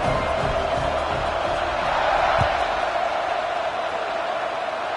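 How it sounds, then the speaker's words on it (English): A football stadium crowd buzzes after a touchdown, a broad, steady roar of many voices at a distance with a brief thud partway through, under and around commentary. "this crowd is buzzing after that last score"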